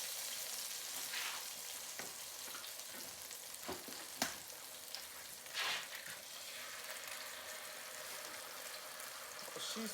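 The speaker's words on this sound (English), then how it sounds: "I'll break the eggs into the pan" Eggs frying in a pan while breakfast is cooked, a faint, steady sizzling hiss with a few brief crackles and pops, alone with no clear talk over it.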